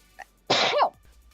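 A single loud, close sneeze, a sharp burst with a short breathy lead-in, with a faint small sound just before it and quiet room tone after; no talking.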